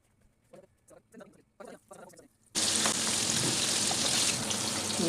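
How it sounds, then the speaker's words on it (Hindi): Flour-coated chicken wings go into hot oil. After a few seconds of quiet, voice-like sounds, a loud, steady sizzling crackle bursts in and keeps going, close and constant. "अब इसको मिक्स करूंगी इसमें मैदे में और फिर फ्राई करना शुरू।"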